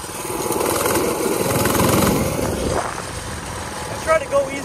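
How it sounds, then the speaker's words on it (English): Motorcycle engine revving under throttle, a loud buzzing drone that builds then drops off abruptly, followed by a couple of short blips. "I try to go easy on the throttle because I don't want to pop a wheelie"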